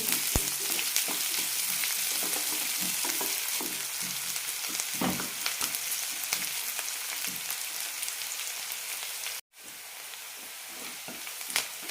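Onions and green chillies sautéing in a pan for peanut curry give a continuous close sizzle with occasional stirring scrapes, broken by one very short pause near the end.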